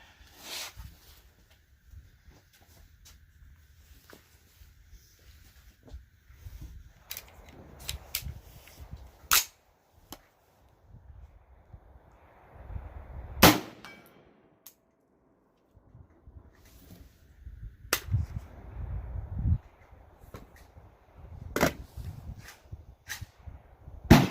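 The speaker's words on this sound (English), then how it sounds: "I got my steel down there at 100 yards, so take a few shots at that real quick" An ATI Omni Maxx 10.5-inch AR-15 5.56 pistol fires scattered single shots at steel targets 100 yards away on an outdoor range, sharp reports spaced irregularly with quiet handling sounds between.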